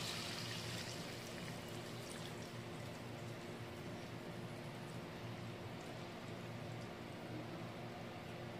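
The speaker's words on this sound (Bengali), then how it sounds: "এবার এটার মধ্যে আমি দিয়ে দেব সেই নারকেলের দুধটা।" Coconut milk poured into a pan of egg curry, a steady, continuous soft liquid stream with a faint low hum underneath, unbroken for several seconds and no talking.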